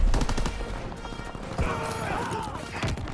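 Rapid bursts of World War II gunfire in Call of Duty: Vanguard crackle through dense game audio, with repeated sharp shots over continuous battlefield noise.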